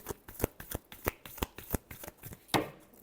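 Tarot cards being shuffled by hand, a run of crisp, evenly spaced riffling snaps close up with no voice, ending in a slightly heavier flutter.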